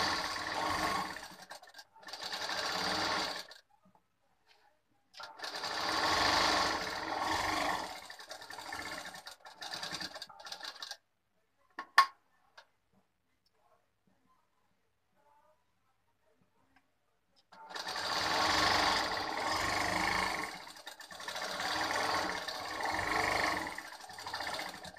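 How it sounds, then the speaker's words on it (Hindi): Sewing machine running hidden stitches into a blouse, in loud sustained bursts of several seconds separated by quiet pauses and a couple of sharp clicks. "तो ये मैं दूसरी सिलाई लगा रही हूँ।"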